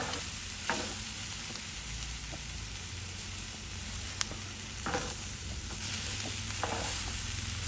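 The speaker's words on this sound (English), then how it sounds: "And we're going to stir it up." Cumin and flour stirred into a sizzling vegan green chile stew, a steady fry hiss with soft scraping strokes of the spoon and a few light knocks, close and alone without speech.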